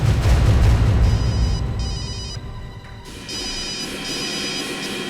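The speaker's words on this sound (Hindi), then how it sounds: "हॉस्पिटल से फोन?" Telephone ringing in an indoor crime-drama scene, a repeated electronic trill in two bursts with a brief pause between them, heard over a low rumbling background and a faint mechanical clatter.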